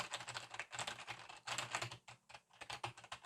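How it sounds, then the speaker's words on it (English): Rapid clacking keystrokes from a Logitech Pro mechanical keyboard, close and crisp, in uneven bursts of typing with short pauses between them. "this is the Logitech Pro keyboard"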